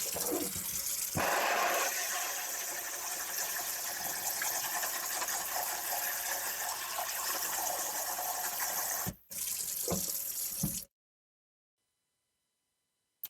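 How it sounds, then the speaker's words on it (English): Tap water gushes steadily into a container for seed winnowing, a continuous close, loud rush with a brief break near the end before cutting off to silence. "you're going to turn your water back on and fill this container up a little bit again"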